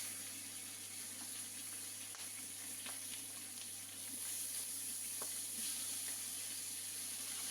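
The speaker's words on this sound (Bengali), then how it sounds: "একই ফ্রাই প্যানের মধ্যে আমি চিংড়ি মাছগুলি ঢেলে দিচ্ছি" Prawns sizzling in a frying pan after being poured in, a faint steady crackle with a few soft clicks and a low hum beneath.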